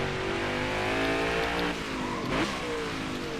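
A race car in NASCAR Heat 5 on the Indy road course roars under sustained throttle, the engine pitch climbing steadily and dipping briefly at a gear change before rising again, loud and close.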